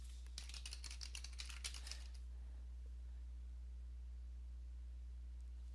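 Quick bursts of computer keyboard typing, faint and close, tap out for about two seconds over a low steady hum, then stop, leaving only the hum.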